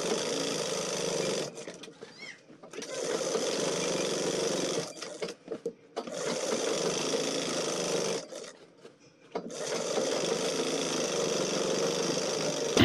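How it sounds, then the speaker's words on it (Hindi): Electric sewing machine stitching the sleeve of a ladies' suit, running in three long steady bursts with brief pauses between, close and fairly loud, with no talking. "यहाँ पर सिलाई लगाना स्टार्ट करेंगे।"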